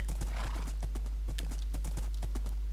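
Horse hooves galloping in a video game, a steady rapid clip-clop rhythm of close, regular beats with a brief whinny early on, playing alone without talk.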